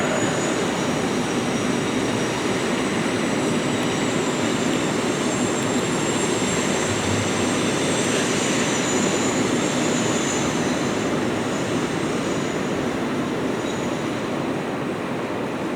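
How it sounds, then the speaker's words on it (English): A train rolls past outside during an outdoor city address in Bridgeport, producing a long, steady broadband roar that stays loud and even throughout with no talk over it. "Howard, I'm gonna let the train go by."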